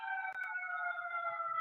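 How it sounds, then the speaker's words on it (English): A siren sounds outside near Hyde Park, a steady, sustained wail that holds fairly faint but constant under a couple of brief clicks, with no voices. "Damn, that siren still there."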